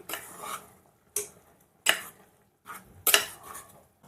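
Spoon stirring coriander powder and garam masala in a pan for a homemade Indian curry, a few short scraping strokes with pauses between them, close and fairly quiet.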